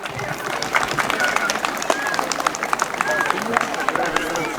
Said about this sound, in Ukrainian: Ходіть, друзі, моцні оплески.